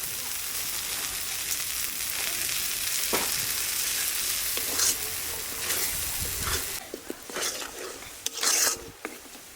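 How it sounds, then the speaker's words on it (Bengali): A cashew and poppy seed spice paste frying in a pan, a continuous close sizzle with scraping stirs and occasional clinks of a utensil against the metal. "মশলাটা একটু ভেজে নিয়েছি"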